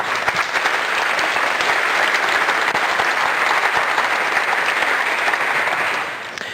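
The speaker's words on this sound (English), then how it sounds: "Could we also have a round of applause for those guys?" A conference audience at a SymfonyLive Berlin keynote breaks into a round of applause, a thick, even roar of clapping hands that holds steady throughout before easing off at the very end.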